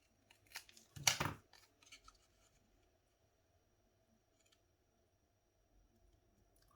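A paper card for a gnome-themed kiss greeting card is cut with scissors in one loud, close snip-and-slice burst of about a quarter second, with faint rustles before it and near silence after.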